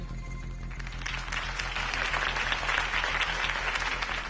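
Crowd applause after a campaign speech for Harvey Dent in Batman: The Telltale Series, a sustained wash of clapping from a large gathering that swells and holds steady throughout.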